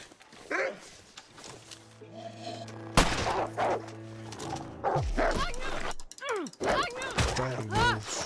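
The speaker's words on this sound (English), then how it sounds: "Damn wolves." Wolves in The Long Dark snarl and bark in a series of sharp, loud bursts and yelps, with sustained tones in between and short whimpering cries near the end.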